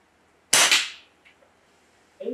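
An Air Venturi Avenger bullpup PCP air rifle fires in a backyard, one sharp crack quickly followed by a second snap and a brief fading tail, close and loud, then quiet with faint distant sounds.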